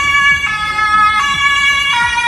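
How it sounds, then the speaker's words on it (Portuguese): Ambulance siren in a middle-class neighborhood in Germany, a loud two-tone wail cycling steadily and repeating about three times, with traffic rumble underneath. "Tá vindo uma ambulância."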